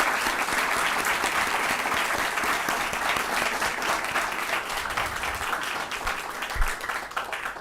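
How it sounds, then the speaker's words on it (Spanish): Dense, continuous audience applause welcoming a speaker to a panel on authoritarianism in Latin America and Europe, loud and sustained throughout with no talking. "le damos especialmente la bienvenida con un aplauso a María Corina Machado"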